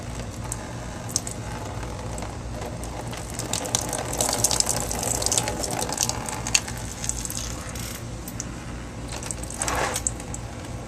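Coolant drains from the radiator of a 1998 Honda ST1100 motorcycle into a tilted pan, a steady close trickle with scattered drips and small clinks running throughout, no talking.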